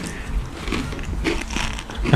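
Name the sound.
someone crunching food while eating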